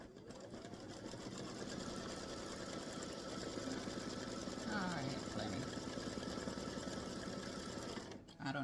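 A sewing machine stitches an applique block for a patriotic baseball bat and stars quilt, running in a steady, continuous whir close up before briefly stopping near the end.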